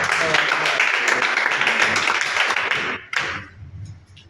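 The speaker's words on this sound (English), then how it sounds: "Let's give him a round of applause" A chess training workshop audience in Ilorin claps for a presenter being called up, a busy burst of applause that cuts off abruptly near the end, leaving a quiet room with faint murmurs.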